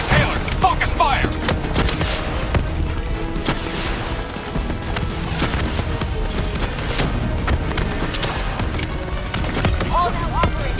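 Sustained gunfire during a Call of Duty Black Ops III battle on PS5, with dense, continuous volleys of shots and heavy thuds running throughout, loud and close, with intermittent voices calling out over the combat.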